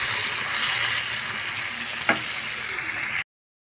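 Broiler chicken meat fries in a pan with a steady, close sizzle and faint crackle, broken by one quick clack of a utensil before the sound cuts off abruptly into silence.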